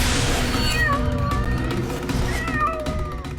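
A cat meows repeatedly in drawn-out, rising and falling cries, several calls in succession over a busy background with some voices underneath.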